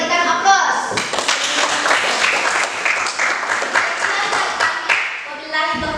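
An audience claps for a presenting group in a classroom session, a steady burst of many hands applauding for several seconds, close and fairly loud, with a voice talking over the start.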